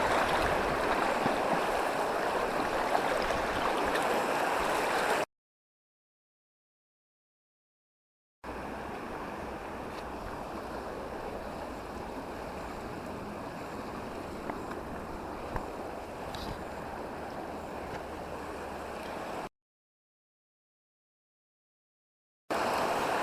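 Strong river current rushing steadily while a person wades across on foot, a broad continuous wash of water noise with wind buffeting, broken by two silent gaps.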